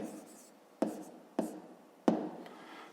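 Pen strokes writing numbers on paper during a fifth-grade math exercise, three short sharp scratchy taps spaced under a faint room hush, close and fairly quiet.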